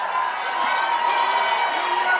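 Crowd cheering at a football team's send-off rally, a dense, steady roar of many voices with shouts and whoops layered throughout, fairly loud and continuous.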